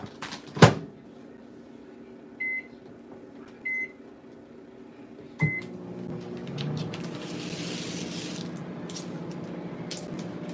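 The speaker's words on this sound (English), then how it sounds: "I'm going to pop it in the microwave for like 10 seconds." A microwave oven melting cheese on a meatball sub: a door clunk, a couple of keypad beeps, another click, then a steady low hum as the oven runs for several seconds.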